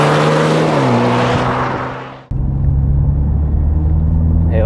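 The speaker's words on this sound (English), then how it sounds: "Intake noise there, it's really nice." Loud intake roar from a 2020 MINI Clubman JCW engine under hard acceleration, climbing in pitch before a sharp cut at a gear change, then a deeper steady pull continues, heard from inside the car.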